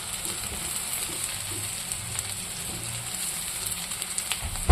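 Dry fish, brinjal and onion fry in a pan with a steady, dense sizzle and crackle, close and continuous with no talk.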